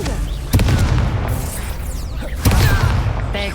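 Confringo spell blasts in Hogwarts Legacy, two heavy booming bursts with crackling magical effects under constant loud combat noise and game sounds.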